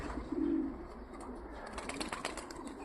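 Pigeons coo beside a pigeon loft, a low soft coo rising early then fading, with faint chirps and rustling in the background.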